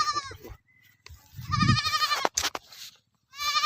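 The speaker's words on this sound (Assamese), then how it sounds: "এইটো বস্তু চাক এইটো ছাগলী" A goat bleats out in a field: several wavering, nasal cries close by, broken by short pauses, with a couple of sharp knocks in the middle.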